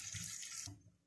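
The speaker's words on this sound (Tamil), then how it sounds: "அதனால் கொஞ்சமாக தண்ணி ஊற்றி கலக்கி வச்சுக்கோங்க." Water runs briefly, like pouring from a tap, while mor kulambu is being prepared, a soft steady splash lasting under a second before cutting off.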